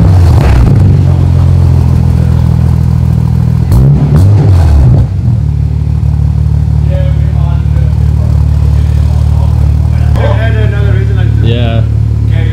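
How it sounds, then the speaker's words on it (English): A loud, modified Toyota Supra starts for the first time and settles into a heavy rumbling idle, with a short rev burst and people talking close by. "First start up on a Supra"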